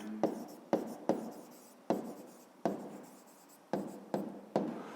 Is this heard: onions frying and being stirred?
no